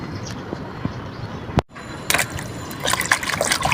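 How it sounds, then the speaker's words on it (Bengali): Chopped banana flower being rinsed in water, with a soft wet trickle and dribble, a brief handling knock partway through, then louder splashing and sloshing toward the end. "আরেকটা ধোয়া দিয়ে নিব।"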